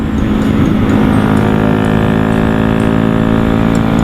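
A modified Honda Wave 110i motorcycle revving hard in fourth gear, giving a loud, close, continuous buzzing engine drone that holds steady with no voices.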